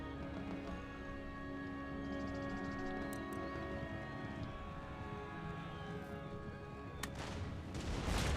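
Cannon firing round shot in the Empire Total War battle game, with sharp booms cracking out around the third and seventh seconds over a steady rumble of battlefield ambience, and a louder swell near the end.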